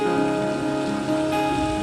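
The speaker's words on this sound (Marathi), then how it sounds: "बाहेर पाऊस कोसळतोय" Heavy rain pouring down outside, a constant, even hiss of drops on surfaces with a steady tonal hum running underneath throughout, with no voices.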